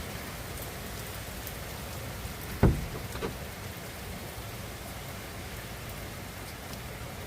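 Steady rain pours down throughout a thunderstorm in Dukinfield, UK, a constant hiss with one brief sharp knock near the middle and no talking.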